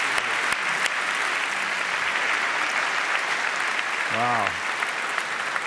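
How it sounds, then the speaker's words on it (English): Audience applause at a televised public debate in Toronto, a dense and loud sustained clapping from a large hall, with a brief exclamation and a short voice near the end over the clapping. "Big round of applause for Janice Stein."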